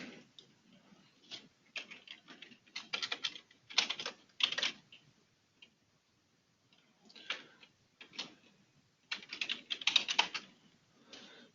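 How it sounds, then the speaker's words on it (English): Someone types on a computer keyboard, producing quick, clattering bursts of keystrokes with brief pauses between runs, fairly quiet and close with no talking. "So now I'm going to type in the basic name of the product."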